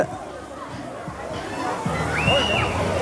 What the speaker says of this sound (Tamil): சின்ன பசங்கள்லாம் நின்று கூத்தடிச்சிருக்காங்க தண்ணிக்குள்ள.